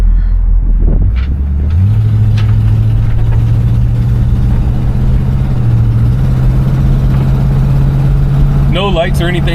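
1973 Buick Centurion engine while driving, a loud steady low drone that rises in pitch as the car gets going, with someone talking over it and a brief rattle at the end.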